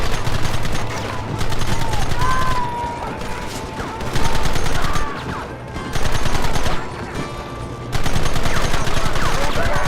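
Gunfire in the video game Red Dead Redemption, repeated bursts of loud shots in several separate volleys with short quieter gaps between them, close and sharp, with no talk.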